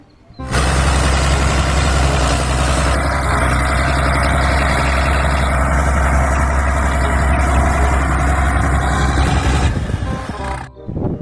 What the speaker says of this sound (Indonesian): Kalau yang ini namanya mobil bulldozer, mobil traktor sawah teman-teman